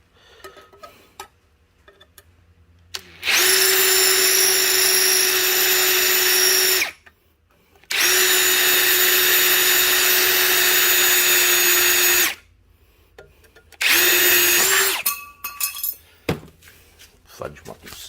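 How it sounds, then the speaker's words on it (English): A drill press bores into a piece of copper held in a vise in three loud, steady whining bursts separated by short pauses, with clicks and handling noises in between. "I'm just flipping it over, putting it back in the drill press"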